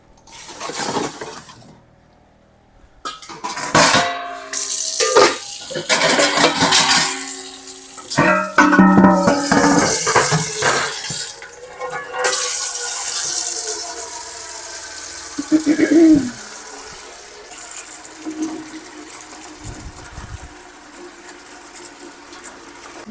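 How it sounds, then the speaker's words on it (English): Water runs into a canner from a tap, a splashing gush broken by clanks and handling noises, then a steadier filling rush that tapers off near the end. "And then now I'm going to fill the canner."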